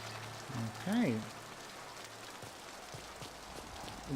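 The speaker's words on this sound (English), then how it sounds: "It's raining, which is not nice." Rain falls steadily in the video game Mass Effect 2, a constant soft hiss of drops on surfaces, with a brief voice-like tonal sound near the start rising over the rain.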